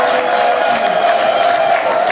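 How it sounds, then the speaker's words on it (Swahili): Church congregation at a Sunday singing service applauding and ululating, a dense, continuous wall of crowd noise with a steady high-pitched trilling tone running through it, loud and close throughout. "Mpe Mungu makofi ya shangwe na vigelegele."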